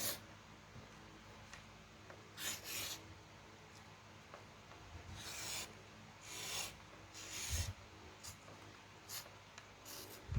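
A circle cutter's blade scrapes through thin paper in several short, raspy strokes, close and quiet with pauses between them.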